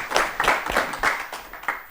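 An audience applauding for a student named Fikirte at a children's TV show in Ethiopia, a burst of many hands clapping in dense overlapping rhythm, close and lively, briefly fading toward the end.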